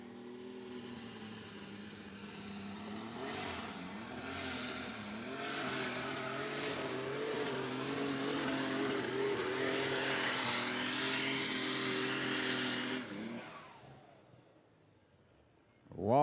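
Loud, roaring engine of an unlimited super stock pulling tractor at a tractor pull, revving hard and sustained for over ten seconds, pitch climbing and wavering, then cutting off abruptly before a short burst at the end.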